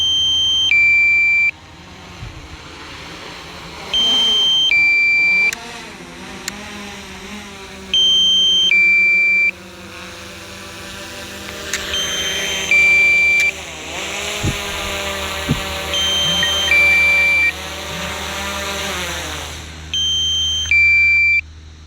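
Pairs of high electronic beeps from a drone repeat at regular intervals, roughly every few seconds, over a low steady hum, as the drone is set down on the ground.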